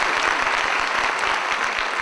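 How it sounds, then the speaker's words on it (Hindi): An audience at a school annual day event applauding, dense sustained clapping from many hands, loud and steady throughout the short burst. "आप इनकी मुग्धता पे तालियां बजा दीजिए एक बार।"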